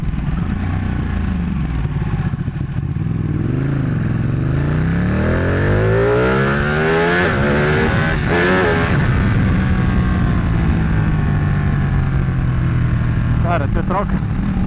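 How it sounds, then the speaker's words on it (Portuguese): Ducati 1199 Panigale sport motorcycle accelerating hard, engine pitch climbing in repeated sweeps as the quick shifter snaps through gear changes; loud and continuous, close to the microphone with wind rush and a voice talking over it. "Troca a marcha no alto com um quick shifter, a moto continua indo subindo, cara, é muito forte"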